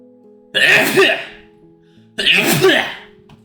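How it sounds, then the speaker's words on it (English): Two loud sneezes close up, each a sharp burst that trails off, with a short quiet gap between them. "Oh God, sneeze."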